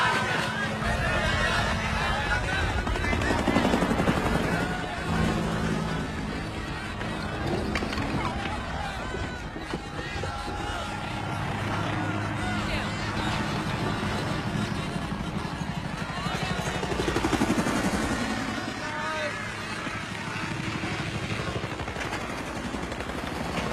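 Military helicopters in the film Apocalypse Now, a continuous dense rotor roar and engine drone filling the scene, swelling and receding with layered noise, battle commotion and voices mixed underneath.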